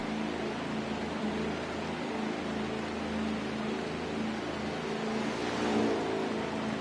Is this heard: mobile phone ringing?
no